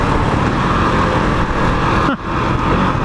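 A 2021 KTM 690 Enduro single-cylinder motorcycle engine pulls hard on a test ride, a loud, steady drone with wind roar, briefly dipping at a gear shift before surging again.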